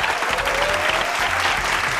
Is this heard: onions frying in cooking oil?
no